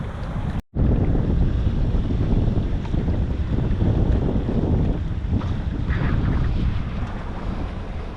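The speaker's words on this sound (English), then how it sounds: "sailing at 6 knots between Man of War Key and Marsh Harbour" Sailboat under way at 6 knots in the Bahamas between Man of War Cay and Marsh Harbour, giving a steady close rush of wind and water against the hull, with heavy wind buffeting on the microphone after a brief dropout near the start.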